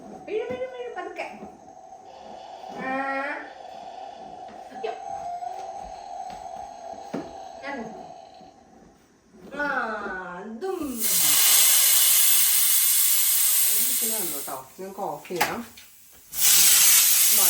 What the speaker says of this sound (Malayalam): കുക്കറിന്റെ വിസില് ഫുള്ള് ഞാൻ പൊക്കി വിട്ടു